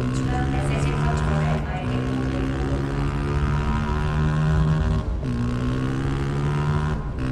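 A motorcycle engine drones steadily in the video game Homefront: The Revolution, loud and continuous with pitch dips as it shifts and changes revs.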